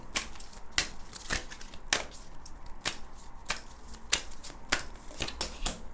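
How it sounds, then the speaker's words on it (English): Tarot cards shuffled by hand in a quiet room, a run of crisp riffling snaps repeating every half second or so, close and fairly loud with no talking over them. "now I'm going to shuffle these cards"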